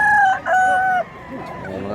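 A rooster on a Cebu farm crows in two loud, sustained calls close by, followed by softer background clucking and farmyard noise.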